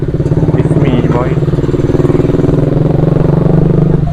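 A motorcycle engine runs steadily while riding, a loud, close, rapid pulsing drone throughout, with someone talking over it.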